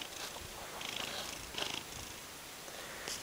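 A cat purrs softly up close, a faint low rumbling with gentle rhythmic swells, quiet and alone.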